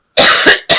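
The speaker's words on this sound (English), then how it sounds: "I'm so sorry about this cough" Two sharp coughs close to the microphone, the first longer and raspier, the second a short burst right after.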